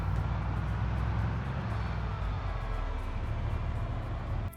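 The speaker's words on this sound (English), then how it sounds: "I start the car up and head out." In Project Zomboid a car drives along with a continuous, fairly loud engine rumble that stays steady throughout and drops away at the very end, with no voices.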